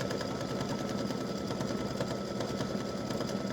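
An embroidery machine stitching a hibiscus design, a steady close mechanical hum with a fast rhythmic needle chatter throughout.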